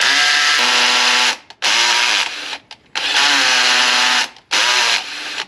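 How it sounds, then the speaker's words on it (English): A power drill driving a tap in and out of rusty metal, four loud sustained whirring bursts separated by brief pauses as the direction reverses, running smoothly without strain. "That's the drill not forcing it."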